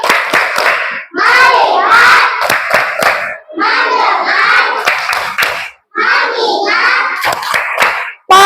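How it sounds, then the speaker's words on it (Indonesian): A school class performs a rhythmic focus clap routine, sharp bursts of children's clapping alternating with loud group chanting in unison, close and energetic. "Tepuk fokus."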